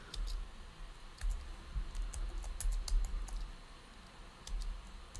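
Light, quick clicks of a computer keyboard as a short command is typed, soft and close, in uneven bursts with no voice.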